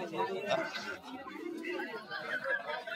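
Pigeons coo softly at a busy street pigeon market in Galiff Street, Kolkata, where high-flying Madras pigeons are sold. Low murmuring coos run steadily beneath close conversation among buyers and sellers.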